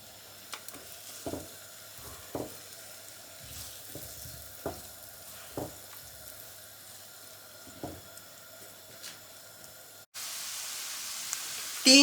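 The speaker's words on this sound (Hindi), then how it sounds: "तीन से 4 मिनट तक प्याज को ऐसे ही कुक करेंगे।" Onions fry in a pan over a medium flame for a Creamy Chicken Curry, a soft steady sizzle broken by a handful of sharp scraping stirs, then a louder hiss swells at the very end.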